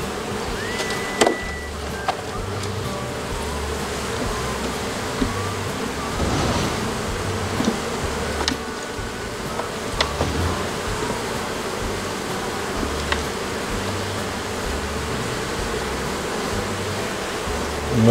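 Honey bees buzz around a beehive outdoors, a continuous hum with individual insects passing close by now and then over a steady background drone.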